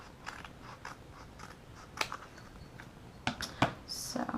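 Scissors trimming paper for a scrapbooking project, a few faint, quick snips in a quiet room, ending with a short burst of crisper cuts.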